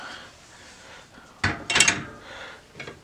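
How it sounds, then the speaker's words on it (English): A bicycle wheel is pulled from a truing stand and flipped, heard as a cluster of sharp metallic clunks and rattles near the middle, then a lighter knock at the end, against a quiet room. "you can pull the wheel out of the stand like this,"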